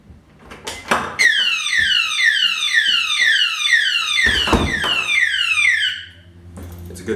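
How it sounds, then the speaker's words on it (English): A battery door-hanging security alarm sounds close and loud as a rapid series of shrill, sweeping electronic chirps, with a door clunk at the start and another partway through. "here we have a door hanging alarm, which will alert you if somebody tries to come in"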